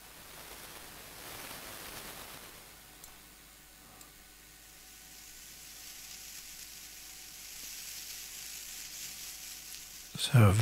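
A synthesizer locusts patch hisses in a soft, white-noise-like wash with faint tonal streaks, holding low and steady before a brief louder burst at the very end.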